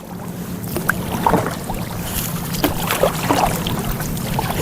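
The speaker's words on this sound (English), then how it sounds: "I'm gonna just do a little bit of kayaking near the other shore." Kayak paddling near a lake shore: soft splashes and drips from paddle strokes at irregular intervals over a low steady background hum, close and fairly quiet, with no talking.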